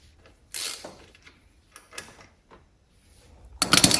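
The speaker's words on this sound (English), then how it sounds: "I'm going to take the drain plug here out of here. So 17 mil socket." A 17 mm socket on a ratchet works the oil drain plug of a 1979 Honda XL500S motorcycle, producing close, sharp clicking bursts separated by short pauses. A louder rattling stretch comes at the end.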